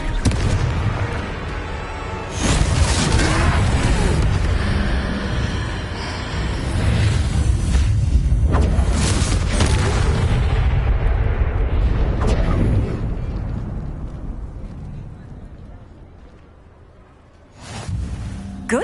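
Confringo blasting spell explosions in the video game Hogwarts Legacy, heavy rumbling booms layered over a dense, loud game soundtrack, with crashes continuing for several seconds before fading.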